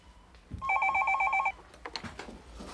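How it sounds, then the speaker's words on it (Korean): A telephone in a home rings with one burst of warbling electronic trills lasting about a second, followed by faint clatter and movement nearby; no voices are heard. "웬 전화지?"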